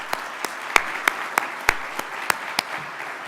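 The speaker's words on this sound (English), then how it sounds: "Give him another round of applause." Sparse clapping from an audience at a presentation in NYC, a handful of separate sharp hand claps spaced irregularly over a faint room hum, thin and brief rather than a full ovation.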